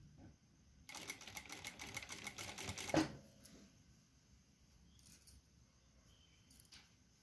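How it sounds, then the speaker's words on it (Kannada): A sewing machine stitches fabric in a short, rapid whirring run of about two seconds, then stops, leaving a quiet room with a few faint clicks. "ಈಗ ಮತ್ತೆ ಒಂದು ಹೊಲಿಗೆ ಹಾಕ್ತೀನಿ"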